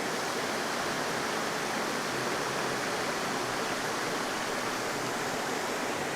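A waterfall pours steadily in a continuous, even broadband rush of falling water, loud and unbroken with no voices or other sounds over it.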